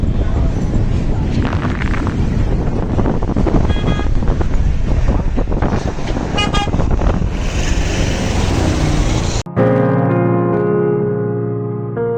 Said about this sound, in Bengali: আছে অনেক বাতাস